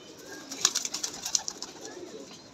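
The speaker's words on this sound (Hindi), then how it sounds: "ये देखे कबूतर उसको चढ़ गया तंग करने के लिए।" Pigeons coo softly at a rooftop loft, a few faint throaty calls in quick succession over a quiet background.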